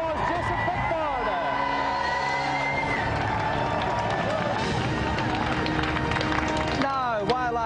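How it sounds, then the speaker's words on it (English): TV game-show studio audience applauding and cheering for a contestant: continuous crowd clapping and whoops throughout, overlaid with bright electronic music and sound effects, with a voice speaking over it. "Another round of applause, Jason Pickford."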